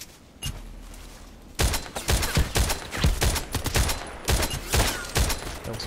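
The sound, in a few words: SVD-S rifle long shot in a video game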